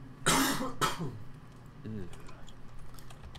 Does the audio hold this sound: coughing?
yes